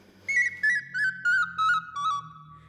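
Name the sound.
very small recorder playing a high note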